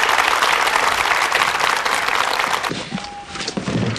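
A lively crowd applauds warmly for a professor's televised special lecture, dense clapping that thins out near the end as a brief tone and faint voice emerge.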